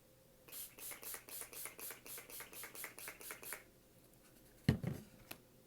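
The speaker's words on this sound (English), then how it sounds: "the last and most important step in this to make this last through all of Valentine's Day is to set it with, of course, Urban Decay All Nighter." Urban Decay All Nighter makeup setting spray pumps about a dozen quick, even hissing bursts in rapid rhythm, close and crisp, followed by a couple of soft handling knocks.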